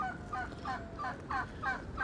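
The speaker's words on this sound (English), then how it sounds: "I've got the geese out and I was just giving them a bit of lettuce." Several geese honk and cackle in a rapid, overlapping chorus, fairly faint and steady throughout.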